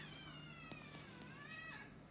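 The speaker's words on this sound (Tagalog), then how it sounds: "May naiyak na pusa." A cat meows in a garden in the morning, giving a few faint, drawn-out cries over a low background hum, with no one talking.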